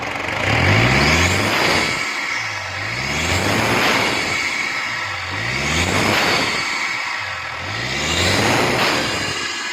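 Toyota Prado diesel engine running after a general tune-up for low pickup, black smoke and knocking, revved up and let back down four times in a steady cycle, loud and close, with no talking.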